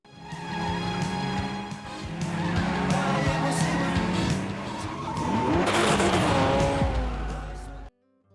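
A car speeds off in a gangster action film, its engine roaring loud and close through a dense mix of skidding tires and screeching, continuous for about eight seconds before cutting off abruptly.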